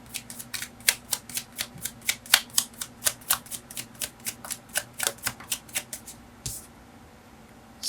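Tarot cards riffle-shuffled in a fast, even run of crisp snaps, close and clear, ending with a single softer slap of the deck.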